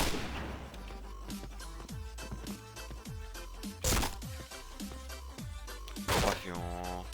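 P90 submachine gun fire in the online shooter Point Blank: rapid bursts of sharp, loud shots with ringing echoes and a couple of heavier blasts, with no talking.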